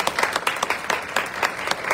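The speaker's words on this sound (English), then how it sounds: "I want you to join me in giving the board a round of applause" Audience applause for the board members at a community board meeting, a short burst of steady, dense clapping from a room of people.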